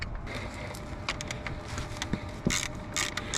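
A 10mm ratchet loosens the alternator charging cable nut on a Chevrolet Silverado, giving a steady run of close, light mechanical clicks over a low hum, with a couple of sharper metallic taps near the end.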